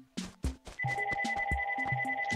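A phone in the video game Animal Crossing rings with bright, repeating electronic chimes. Soft game blips come first, then a sustained tonal ring pattern continues close and clear.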